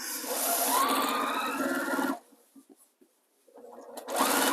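A sewing machine stitches a bulky fabric cover in two loud runs of rapid mechanical chatter, separated by a near-silent pause with a few faint handling clicks.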